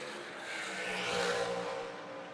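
A NASCAR Cup Series car roars past at a distance at Dover International Speedway, its engine whine swelling and fading against a steady background drone.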